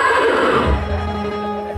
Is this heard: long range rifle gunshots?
no